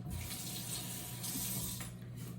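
A kitchen tap runs steadily while a mango is rinsed under the stream, giving a continuous close splashing rush that shifts slightly as the fruit moves through the water.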